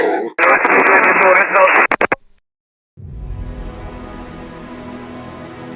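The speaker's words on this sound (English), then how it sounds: "After those 17 seconds of metallic noise, the frequency went silent." Harsh, band-limited metallic radio static with rapid clicks from the Valentich aircraft radio transmission cuts off abruptly into silence, then a low droning hiss fades in.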